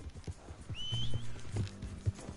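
A horse in the video game Red Dead Redemption 2 whinnies in a shrill, wavering call over soft hoof clops and low background rumble, fairly close.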